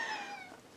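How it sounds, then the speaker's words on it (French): A pet cat named Orion gives one drawn-out meow that slides downward and fades, heard clearly and close by, alone without talk. "il miaule, je lui ai manqué"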